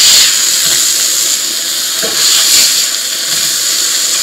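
A slice of homemade Spam frying in a pan, a loud, steady, close hissing sizzle that holds throughout.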